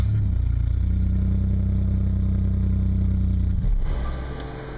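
A Chevrolet Camaro engine that needs exhaust work runs near and loud at a steady, rough idle with a throbbing low rumble, then cuts out abruptly near the end.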